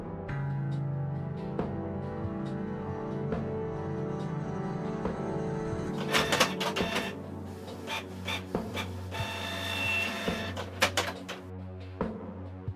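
A printer in the Kathy Rain video game prints an image, starting with a low mechanical whir and moving into a busier run of clicks, clunks and feed noises.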